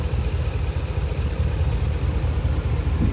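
The V8 engine of a 2013 Ram 1500 Laramie 4x4 truck with 154,000 miles idles steadily with a low, even rumble, close by and uninterrupted.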